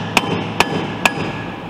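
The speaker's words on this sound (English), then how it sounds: "we'll just straighten it out with a hammer carefully" A hammer strikes a steel shaft to straighten it during a Nashorn roller repair: three sharp, ringing metallic blows at an even pace, close and loud over a quiet workshop hum.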